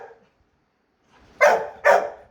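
A pet Labrador barks twice, loud and close, the two sharp woofs about half a second apart after a brief faint sound and a short silence.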